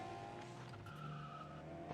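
Car drifting in the Gas Gas Gas Simulator video game, tires skidding and squealing over a low engine drone, faint and steady for two seconds with no voices.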